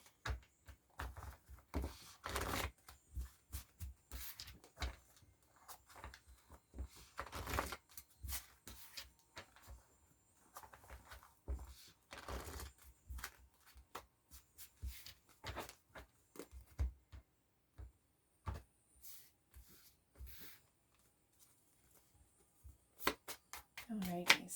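Tarot cards being shuffled by hand, a quiet run of crisp riffling bursts and soft slaps in an uneven rhythm, close to the microphone and mostly alone.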